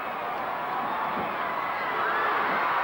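Steady crowd roar from spectators at an NWA tag-team wrestling match, a dense wash of cheering and shouting that swells slightly toward the end, with no clear voices standing out.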